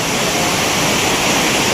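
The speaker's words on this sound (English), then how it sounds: "It is pouring." Heavy rain pours down outdoors in a dense, loud, unbroken hiss that covers everything, with no voices over it.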